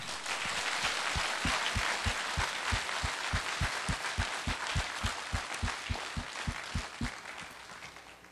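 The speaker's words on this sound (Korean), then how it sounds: "우리 하나님께 영광의 박수 드립니다." A church congregation claps together at an evening revival service, a dense wash of applause over a steady, rhythmic beat of unison claps, loud and sustained.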